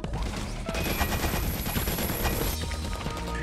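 Laser cannons fire in the platform video game Super Meat World as a dense, continuous crackling barrage, loud and without a break, over the game's music.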